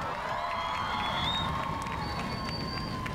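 A crowd at a champions' parade keeps up a steady cheer of massed voices and whoops, with no single voice standing out.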